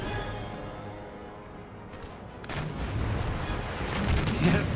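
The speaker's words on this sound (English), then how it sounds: "Anchor and fire at will." Warship cannons firing in the naval battle game Empire: Total War, with scattered distant booms that thicken into a rolling barrage as the clip goes on, over a low background hum.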